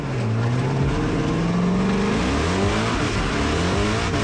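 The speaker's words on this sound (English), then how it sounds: "my car is breaking up like crazy. It's barely drifting" A Formula Drift car at the 2022 New Jersey round drifts with its engine breaking up, loud and close, revs rising and stuttering in uneven bursts while another car's engine weaves through the mix.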